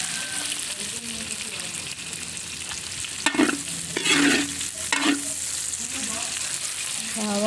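Garlic and onion sizzling in a frying pan while being stirred, a steady hiss broken by scraping stirs around the middle, close and fairly loud.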